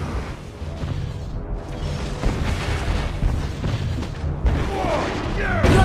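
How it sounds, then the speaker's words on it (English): Turret destruction in the Minotaur video game: a continuous dense roar of booming, explosive blasts layered with battle noise, louder in the later seconds, with a crackling burst near the end. "Your team destroyed a turret!"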